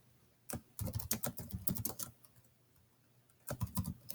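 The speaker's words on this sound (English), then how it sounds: "So I'm just going to type in" Close, quiet typing on a computer keyboard, two bursts of rapid keystrokes separated by a short pause.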